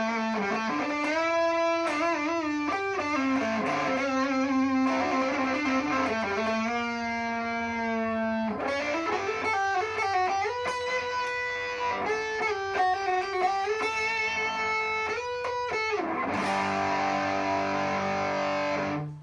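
A 2014 Gibson LPJ electric guitar through a Donner Morpher Distortion and an overdrive pedal, neck pickup, plays sustained chords and melodic runs, thick and saturated throughout, with no talking.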